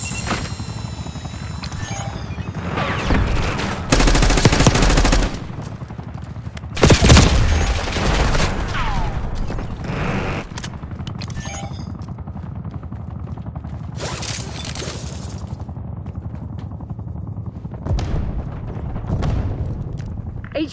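Bursts of gunfire in a Call of Duty combat mission, with dense volleys and loud individual shots breaking through steady background battle noise, broken by several sharp, loud peaks and some quieter stretches.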